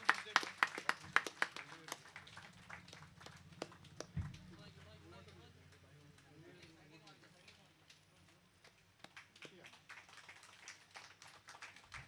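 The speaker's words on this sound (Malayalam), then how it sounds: "എല്ലാവരും ഒരു നിറഞ്ഞ കയ്യടി നൽകും." Applause from a gathered crowd at a St. Thomas family unit anniversary event, a burst of clapping that fades out under a speaker's voice on a microphone.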